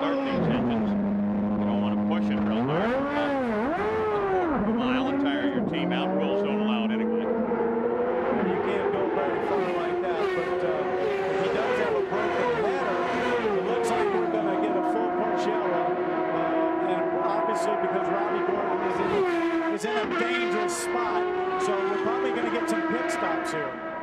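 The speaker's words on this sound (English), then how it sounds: "There goes the auxiliary, the electrical starter, the only way you can start these engines." A race car engine at the 1996 Long Beach street race fires up on an auxiliary electric starter and revs loudly, with other engines droning and rising around it while a commentator talks over the noise.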